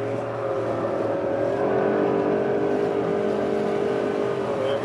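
A vehicle's engine drones steadily and close while reversing a boat trailer out from under a big boat during a launch, a continuous hum that holds its pitch with no talking.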